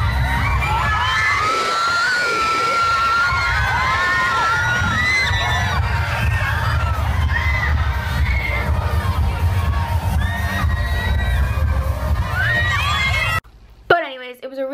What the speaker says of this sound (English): while all the girls were screaming, it was so loud in there